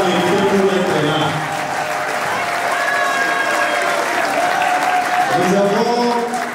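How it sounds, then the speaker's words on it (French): An audience at a political gathering applauds steadily, a dense, loud wash of clapping that holds for several seconds with a faint voice beneath it. "je pense que nous pouvons l'applaudir parce qu'elle a mérité pour être là"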